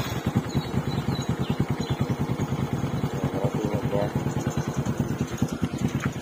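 A motorcycle fitted with a Spyker power pipe exhaust idles close by, giving a steady, rapid low-pitched pulsing throb that stays even throughout.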